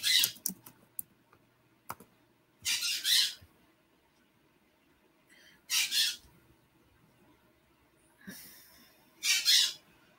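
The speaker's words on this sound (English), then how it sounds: "No, I can't tell it to stop. It's a bird." A pet bird lets out harsh, loud squawks in three bursts spaced a few seconds apart, with faint clicks and small bumps in the quiet gaps between them.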